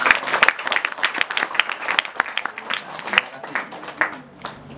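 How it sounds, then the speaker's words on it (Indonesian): An audience at a literary event claps enthusiastically, a dense burst of applause with voices mixed in, loud at first and tapering over a few seconds. "Kita beri aplaus dulu untuk Pusat Bahasa."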